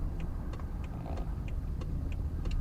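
A BMW F10 550i V8 bi-turbo runs quietly in comfort mode with a stock exhaust fitted with valves, giving a soft, steady low hum with faint regular ticking over it.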